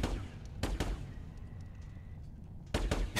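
Gunfire in the video game The Anacrusis, a few loud close bursts of shots, a pair near the start and another pair at the end, with quieter game ambience between.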